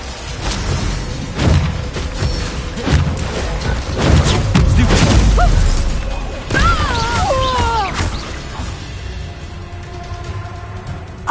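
A Glacius spell strikes during a Harry Potter wizard duel game, a series of sharp crashing impacts and bursts amid other spell effects, with a shouted voice and bright whistling tones near the end.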